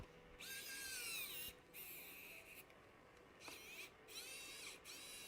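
Small screws being driven into the kinematic mounts of a Voron 2.4 3D printer during a teardown and rebuild, with several short whirring bursts from a power driver separated by brief pauses, close and fairly quiet.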